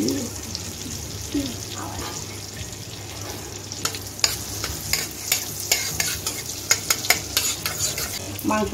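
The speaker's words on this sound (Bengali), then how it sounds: "বাটারটা আমি একটু গলিয়ে নিচ্ছি।" Butter melts and sizzles in a kadai before chicken goes in, a steady frying hiss with clinking stirring strokes growing sharper and more frequent toward the end.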